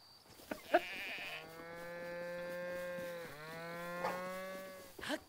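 A bull or cow moos in the game The Legend of Zelda: Breath of the Wild, one long, drawn-out low moo that bends partway through, with short clicks and small sound effects around it and no talk.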